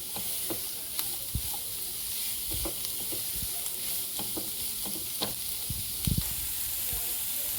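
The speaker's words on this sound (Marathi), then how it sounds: "दोन मिनिटं कांदा फ्राय केलाय मी" Chopped onion sizzles over a high gas flame, half-fried for a Schezwan pizza topping, while a spoon stirs it with repeated clicks and scrapes against the pan; close, continuous and without talk.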